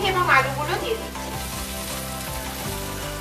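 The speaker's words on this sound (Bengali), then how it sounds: "এবার এর মধ্যে আমরা ভেজে রাখা ফুলকপি এবং আলুগুলো দিয়ে দিচ্ছি।" Fried cauliflower and potato pieces dropped into a pan of spices, sizzling and crackling briefly with a louder burst at the start before settling into a softer steady fry.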